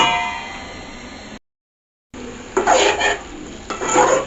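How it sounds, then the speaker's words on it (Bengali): A metal lid clangs down onto a cooking pan of pumpkin paturi, followed by ringing metallic clinks and soft rattling close by, with no voices. "এখন আমি এটাকে ঢেকে দিচ্ছি"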